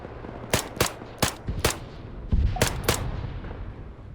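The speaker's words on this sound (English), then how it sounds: "a lot of rounds going down." Rifle gunfire from an M14 DMR in the video game ARMA 3 with the RHS mod: about six sharp, loud reports at uneven intervals, followed by a lingering low rumble.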